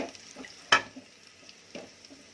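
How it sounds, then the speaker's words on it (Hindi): Ginger-garlic paste frying in a pan with oil and asafoetida while cooking UP-style bottle gourd and chana dal: a quiet, low sizzle broken by a few soft stirring scrapes and one sharp utensil clatter. "उसके बाद ये अदरक लहसुन का पेस्ट, उसके बाद हम इसको अच्छे से लाल होने देंगे थोड़ा सा"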